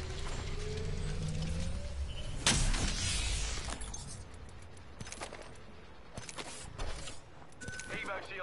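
Shield charging in Apex Legends, a steady mechanical whirring and ratcheting hum that runs for several seconds alongside game effects, with a sharp burst partway through.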